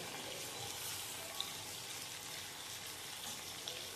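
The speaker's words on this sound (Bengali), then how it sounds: "আলু আর কাঁচকলাটা মিডিয়াম ফ্লেমে রেখে দিয়েছি গ্যাস, একটুখানি ভাজা হোক।" Potato and green banana fry in oil over a medium gas flame, giving a steady, soft, close sizzle with faint crackles and no talking.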